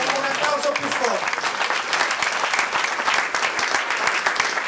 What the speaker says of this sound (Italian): Un applauso più forte